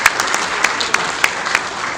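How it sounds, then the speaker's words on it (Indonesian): Audience applauding for the KPU (election commission) at an award ceremony in Bone Bolango, a steady wash of clapping with sharp individual claps standing out, fairly close and continuous throughout. "Tepuk tangan dulu untuk KPU"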